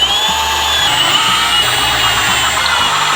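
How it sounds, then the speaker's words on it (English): A loud, close power drill whirring steadily and continuously, its motor pitch holding roughly constant throughout, with no voices. "We're gonna drill straight through on both ends"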